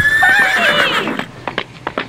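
A horse gives one loud, close whinny that wavers and falls over about a second, followed by a few sharp hoof clops or knocks.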